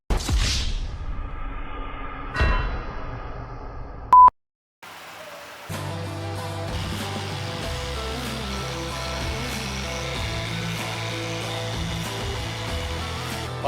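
Power tool work extracting a stuck bolt from the manifold of a BMW 335i, with a brief whirring burst and tool clatter, a short gap, then a steady, loud mechanical drone with rhythmic grinding pulses.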